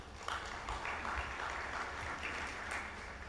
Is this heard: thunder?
no